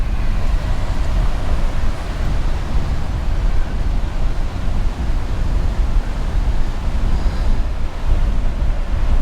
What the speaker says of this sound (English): The wind creates a lot of big waves.